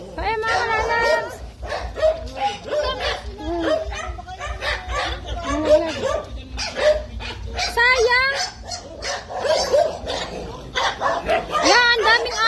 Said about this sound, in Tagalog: ang daming aso ni Tita Benos